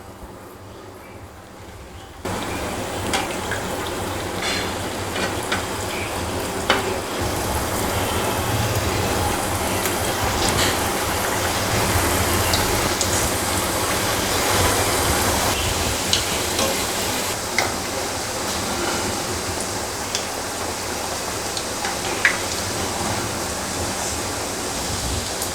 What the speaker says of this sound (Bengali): এখন আমি গ্যাসটাকে কমিয়ে দিয়ে জিলাপিগুলো ভেজে নেব।